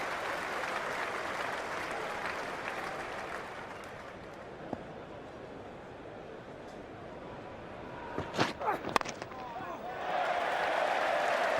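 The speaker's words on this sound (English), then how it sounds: "Big cheer goes up all around this ground" A cricket crowd at Lord's in the 2005 Ashes first Test cheers as a short-pitched delivery is helped away to the boundary, a broad roar with clapping that swells near the end, over which a commentator talks.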